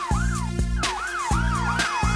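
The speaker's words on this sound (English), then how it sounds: "Police SUV." Cartoon police SUV siren wailing loudly in repeated rising-and-falling sweeps, punctuated by a steady rhythmic pulse of honking bursts, with no voices.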